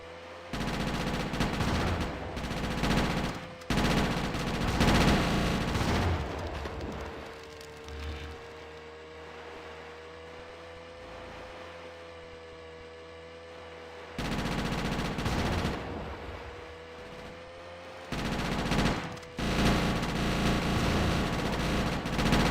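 Submachine gun drive-by shooting in GTA: Chinatown Wars, with long loud bursts of rapid automatic fire separated by quieter stretches of engine-like drone, recurring several times.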